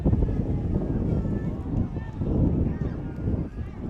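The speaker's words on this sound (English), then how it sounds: "It's just the windy. wind is, and it's a chilly wind." A chilly wind gusts across an outdoor high school varsity football game, rough low buffeting that swells and fades over indistinct voices.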